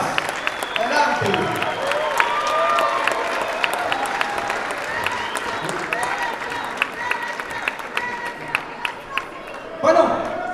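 Audience applause from a crowd at a Nuevas Ideas party event in Los Angeles, steady dense clapping with some cheering sustained throughout, a brief louder swell near the end.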